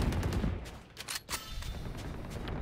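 Vandal rifle fire in Valorant, a few sharp taps and short bursts of shots with brief gaps, loud and close over constant game ambience.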